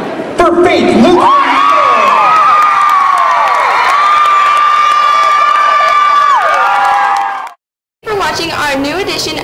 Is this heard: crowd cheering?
yes